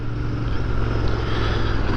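A Royal Enfield 650 Continental GT motorcycle with its stock exhaust idles or runs steadily. It gives a close, even, low throbbing rumble for two seconds, with no talking.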